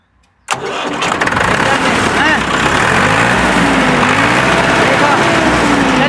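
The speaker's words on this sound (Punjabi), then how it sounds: "ਹੁਣ ਆ ਟਰੈਕਟਰ ਇਹ ਤਾਂ ਤੁਸੀਂ ਵੇਖਣੇ ਕਿ ਇਹਦੀ ਵੜਕ ਕਦੇ ਵੀ ਨਹੀਂ ਵੇਖੀ ਹੋਣੀ" A 1969 Manraj 165 tractor engine cranks and catches suddenly, then runs on in a loud, steady, rough rumble at close range, with voices talking over it.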